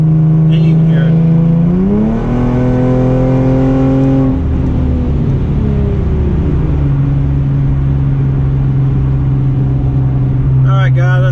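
Hyundai Genesis exhaust with muffler and resonator deleted revs up and drops back to a steady idle drone, loud and close, with no talk over it.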